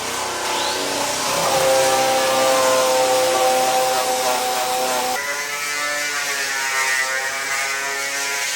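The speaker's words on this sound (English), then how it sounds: "Sanding these logs down is a very messy," A power sander works over the logs on the front of a hybrid log home in Alaska, a continuous whirring, rattling drone with a steady pitch that shifts abruptly partway through as the tool's load changes.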